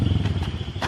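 A motorcycle engine on a farm in the Philippines, running steadily and close by with low rumbling pulses, a few clattering knocks over it.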